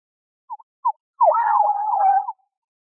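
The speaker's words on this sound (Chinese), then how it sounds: "警笛声？" A police siren wails once in a single drawn-out tone after two short blips, isolated against silence, sounding somewhat thin and distant.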